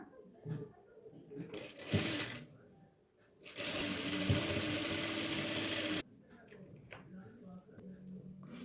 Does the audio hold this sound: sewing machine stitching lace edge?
yes